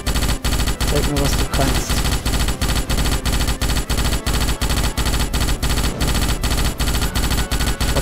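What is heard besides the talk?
gunfire from the video game Starship Troopers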